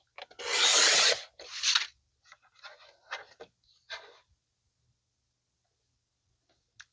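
Scissors cut paper into 3-inch strips: a couple of longer rasping snips up close, then a scattering of shorter, quieter cuts and rustles that thin out to silence.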